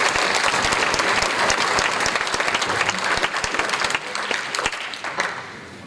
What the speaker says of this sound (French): on peut applaudir Romain parce que c'est lui qui nous a fait le diaporama